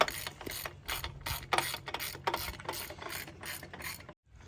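Mechanic's ratchet clicking rapidly while unbolting the gearbox from a Nissan Skyline engine, a close, steady run of sharp metallic bursts that cuts off abruptly near the end.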